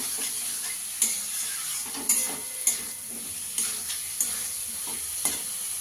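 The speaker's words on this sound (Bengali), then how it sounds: "আলুটা দিয়ে ভালো করে কষিয়ে নেব।" Potatoes fry in spices in a pan for a small-fish curry, a steady close sizzle broken by regular stirring scrapes and clinks of a utensil.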